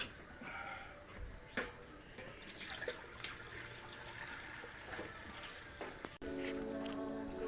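Water is poured into a foliar fertilizer mix: splashing and trickling with a few sharp knocks, then a steadier filling gush near the end, with faint voices in the background.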